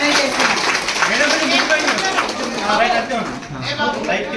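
Women at a Mahila Congress foundation day gathering clap loudly, an uneven burst of hand claps mixed with talking voices nearby, with the clapping ebbing slightly toward the end.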